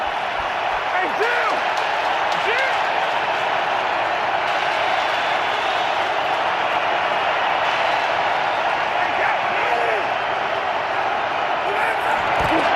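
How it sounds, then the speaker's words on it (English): Crowd noise fills an NFL stadium during a Saints vs Patriots game on a third down, a steady, loud roar of fans that holds evenly throughout, with faint whistles and shouts rising now and then. "Saints have to deal with the crowd noise again"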